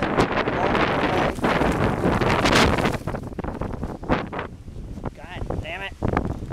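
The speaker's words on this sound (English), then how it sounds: "Another windy day" Strong wind buffets the microphone with loud, roaring gusts, easing somewhat toward the end while a voice speaks briefly.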